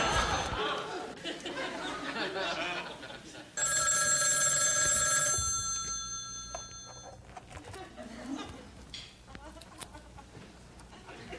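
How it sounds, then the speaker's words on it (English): A telephone bell rings loudly for roughly two seconds, cutting in over people talking, chuckling and chattering, then fades as the conversation carries on. "Oh, John, there goes the phone."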